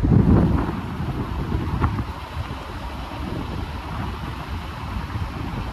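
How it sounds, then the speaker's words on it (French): Wind blowing at a beach in Charente-Maritime, a continuous rumbling gusty roar buffeting the microphone, strongest at the start and then steadying, with no voices. "Il y a un petit vent aujourd'hui."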